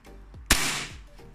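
An Armorer Works custom Hi-Cap airsoft pistol fires a single 0.30 gram BB, one sharp close crack with a brief hissing tail, set against quiet background noise.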